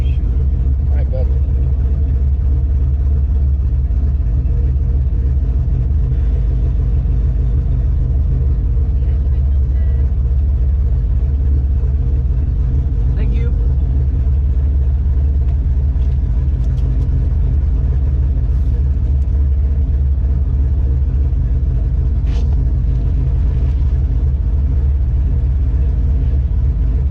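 Loud Ford Shelby engine idling or cruising with a steady low rumble that continues unbroken throughout, heard from inside the car, with occasional faint clicks and rustles over it.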